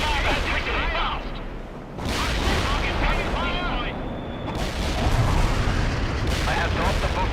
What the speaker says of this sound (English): I have dropped the bunker buster.